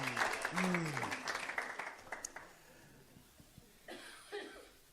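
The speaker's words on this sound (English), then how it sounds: "Give yourselves a big round of applause." Brief applause from a congregation at a unity service, a short burst of clapping and laughter after someone speaks, fading into scattered sounds and a cough.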